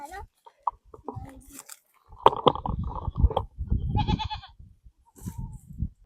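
Goats in a village forest area bleat loudly and close by in several uneven calls, mixed with rustling and human voices.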